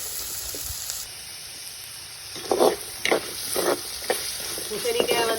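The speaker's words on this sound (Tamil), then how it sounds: "பூசணிக்காய் வதங்க விடுவோம்." Pumpkin sautéing in hot oil for a dried-anchovy pumpkin stir-fry, with a soft steady sizzle and several brief scraping stirs from a utensil, close and fairly quiet, with no talking.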